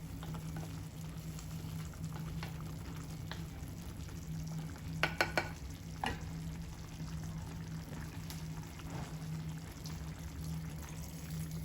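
A lamb and prune tajine simmers with a faint, even sizzle; a short burst of clicks and knocks comes as the meat is turned and a little water goes in, over a low background hum.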